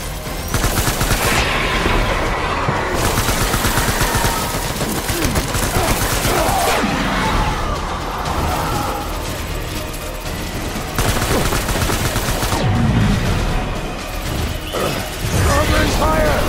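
Gunfire during a final boss fight with Cliff in the video game Death Stranding: dense, loud, continuous volleys of automatic shots with occasional heavier blasts, under scattered shouting voices.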